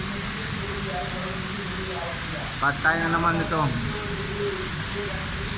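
Steady heavy rain hisses throughout on a Dubai street near Ski Dubai, with someone speaking briefly over it partway through.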